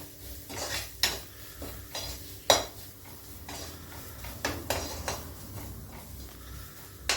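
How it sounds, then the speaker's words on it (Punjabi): Turmeric and spices fry in a pan for besan okra, a soft sizzle beneath scattered spoon scrapes and clinks against the pan, quiet and close. "ਥੋੜਾ ਇਹਨੂੰ ਆਪਾਂ ਫਰਾਈ ਕਰਾਂਗੇ"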